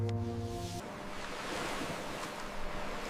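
Steady ocean surf rolls at dawn with a soft, continuous wash of waves, faint and broad, with a low tonal hum at the very start and no voices.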